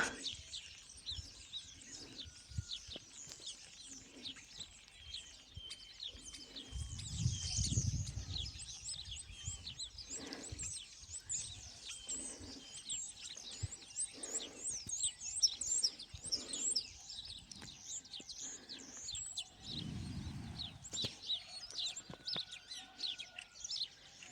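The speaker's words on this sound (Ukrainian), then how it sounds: "Шпаків повно." A large flock of starlings in a garden in late March keeps up a dense, continuous chatter of chirps and whistles, with a few soft low thumps underneath.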